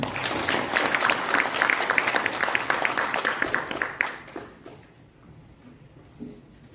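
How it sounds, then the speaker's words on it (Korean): Applause from an audience at a public event at the National Assembly, dense clapping for about four seconds that quickly fades to a few scattered claps and near quiet. "박수로 맞아주십시오"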